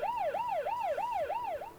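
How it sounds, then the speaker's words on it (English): Police car siren in Euro Truck Simulator 2, a loud wailing tone sweeping up and down in quick repeating cycles, close behind and alone, steady throughout. "Literally behind me, police car."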